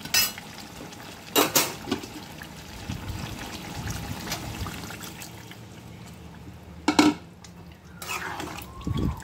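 Hot water is poured into a pot of chicken kosha curry and a lid is set on, with a soft trickle, a couple of metallic clanks and a lid knock, close and moderately quiet.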